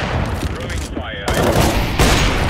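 An incendiary fire grenade in CS:GO lands and bursts into a roaring, crackling blaze that stays loud and steady, with gunfire-like bursts around it and a brief electronic tone partway through.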